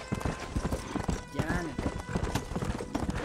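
Horse hooves clip-clopping at a steady rhythm while riding across the land in Red Dead Redemption, a close, continuous patter of hoofbeats with a faint whinny partway through and someone talking over it.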